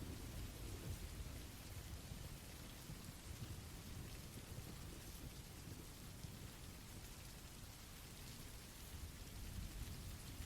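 Steady, dense rain pours continuously with a deep rumbling thunder undertone throughout, fairly quiet and unbroken.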